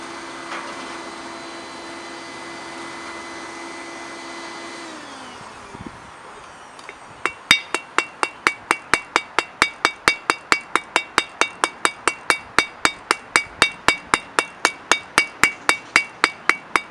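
Steady, evenly spaced hammer blows ring out on a hot steel leaf being rounded over at a blacksmith's anvil, starting after a few seconds of forge hum and continuing in a fast, regular rhythm.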